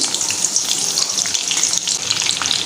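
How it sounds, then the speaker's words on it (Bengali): Finely chopped garlic hitting hot oil in a pan makes a bright, crackling sizzle with many sharp pops, close and steady, and no voices over it. "তেলটা আমার গরম হয়ে গেছে এবার এর মধ্যে আমি কেটে রাখা রসুন কুচি কুচি করে নিয়েছি রসুনটা দিয়ে দিলাম"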